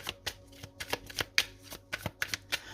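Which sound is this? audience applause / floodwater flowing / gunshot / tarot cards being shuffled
tarot cards being shuffled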